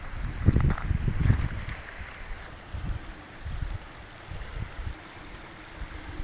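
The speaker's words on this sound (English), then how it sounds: "See if I can shield this wind." Gusty wind blows outdoors beside a river, rumbling in low buffeting bursts across the microphone with steady rushing noise underneath, strongest early on and easing to softer gusts.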